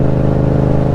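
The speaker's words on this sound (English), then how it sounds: "The exhaust has a good tone. It's a low, throaty" A 2018 Yamaha MT-07 motorcycle fitted with an Amazon Ransoto aftermarket exhaust drones at a steady, low, throaty pitch, loud and close with no break.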